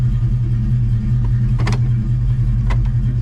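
A car engine with an aftermarket intake idles after a cold start, a steady low rumble with a couple of brief louder bursts partway through.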